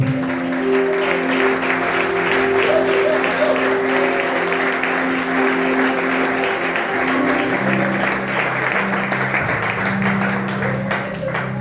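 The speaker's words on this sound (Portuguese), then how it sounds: "Vamos aplaudir o Senhor Jesus Cristo" A church congregation applauds steadily for about twelve seconds during a worship service, dense clapping held at a constant level over a sustained organ or keyboard chord that shifts partway through.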